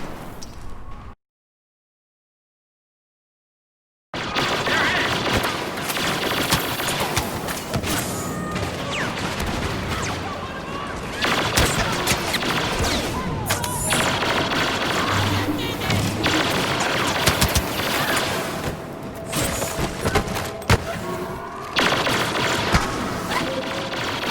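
Rapid-fire EE4 blaster shots in Star Wars Battlefront, a dense continuous stream of loud game gunfire and impacts after a brief silence near the start, running steadily to the end with no talk.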